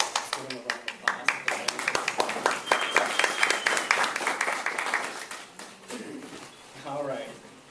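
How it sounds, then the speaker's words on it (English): Applause at a Trans Latina town hall in Little Village: a burst of scattered, fairly close hand claps that builds into a fuller round, then thins out as a voice begins speaking. "So let's give them a round of applause."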